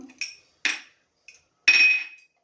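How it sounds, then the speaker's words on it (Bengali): A spoon clinks and scrapes in a bowl as spices are mixed for dhokla batter: a few sharp, separate metallic taps, then a longer scraping stroke, close and fairly quiet with pauses between. "মিক্স করছি"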